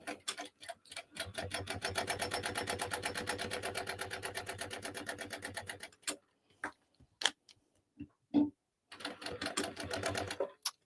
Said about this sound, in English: I'm just going to chain sew all of these as I go.